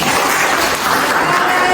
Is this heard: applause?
yes